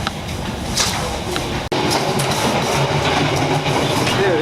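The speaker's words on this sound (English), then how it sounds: "Well, we're on the train, and it's not too bad." Steady rumble and clatter of a moving train carriage on a rail trip in Vietnam, continuous and close, with rail clicks and a brief dropout partway through.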